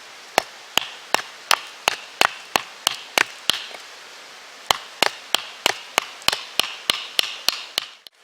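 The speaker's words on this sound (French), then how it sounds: "on peut juste venir enlever un petit peu d'écorce sur le bout et casser les angles ici" Blade striking wood to strip bark off the end of a bushcraft plank, a fast even series of sharp knocks, about twenty in two runs with a short gap between.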